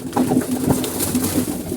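Pigeons coo repeatedly during feeding, a soft rolling murmur in overlapping bursts close by, with no talk over it.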